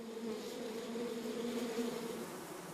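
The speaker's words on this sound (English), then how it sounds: "In a honeybee colony, every member has a specific task to perform, and everything has its place." Honeybees in a colony give off a steady, dense buzzing hum that carries on unbroken, close and even, with no voices.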